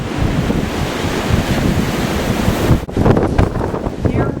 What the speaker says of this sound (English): the wind is blowing so hard that there are places where you can actually see the